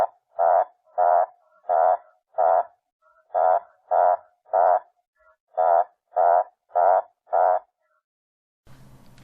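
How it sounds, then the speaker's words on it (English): Toads call loudly at an African waterhole, a run of about a dozen evenly spaced, harsh croaking bursts close by, then a brief faint rustle at the end. "the toads started yelling in its face"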